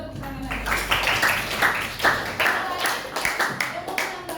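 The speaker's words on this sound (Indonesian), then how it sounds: "Kita beri tepuk tangan lagi." Students clap for a classmate in a classroom, a round of many hands patting in quick uneven bursts with voices mixed in beneath the applause.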